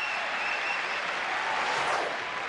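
A huge crowd bursts into sustained applause at a 1999 Los Angeles tennis final between Sampras and Agassi, a steady dense roar of clapping filling the whole stretch.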